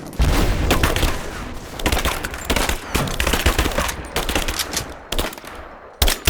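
Heavy gunfire in Rise of the Tomb Raider, with dense bursts of automatic weapon fire and sharp shots rattling in close succession, broken by brief pauses.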